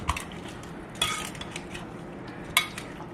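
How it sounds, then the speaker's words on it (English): Raw chicken wings tossed in salt and pepper in a bowl, with a few close clinks and scrapes of a utensil against the bowl amid soft shuffling, no talking. "toss these up and make sure they're well coated in that salt and pepper"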